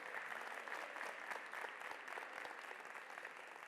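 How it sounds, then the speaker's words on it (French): Audience applause for contestants at a high school competition show, a dense, steady wash of many hands clapping throughout with no voices over it. "je demande encore qu'on applaudisse très fort pour elles"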